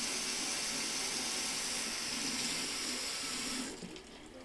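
Warm tap water runs steadily from a faucet into a sink while a catfish is cleaned, a loud close hiss that stops abruptly near the end and leaves a quieter room.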